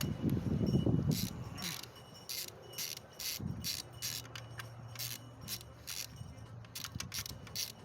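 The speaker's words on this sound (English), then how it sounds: "we're gonna remove the spark plug" Ratcheting clicks from removing a spark plug on an Infiniti G35 engine being repaired for a cylinder 5 misfire, with a burst of low rumble near the start and a steady series of sharp clicks throughout.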